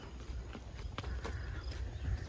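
A horse's hooves clip-clop at a walk around an arena, an uneven string of soft hoofbeats close by over low rumbling background noise.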